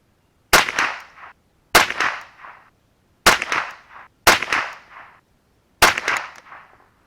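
Five sharp .22LR rifle shots with Remington Ranch Hand 40-grain ammunition, each a loud crack followed by a short decaying echo, spaced about one to one and a half seconds apart outdoors.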